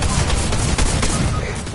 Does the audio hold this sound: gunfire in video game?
yes